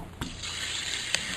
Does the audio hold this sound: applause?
no